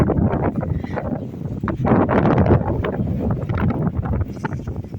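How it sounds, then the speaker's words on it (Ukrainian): Strong wind buffets the microphone with a constant low rumble and gusting roar, loud and close throughout. "Вітер, вітер дує, не можна нічого зблизька показати."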